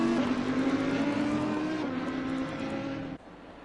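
A GT3 race car screams past on the Laguna Seca circuit in a sim racing game, its engine a loud, sustained high-pitched drone that holds steady and then cuts off sharply near the end.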